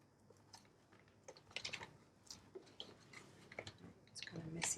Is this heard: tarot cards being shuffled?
yes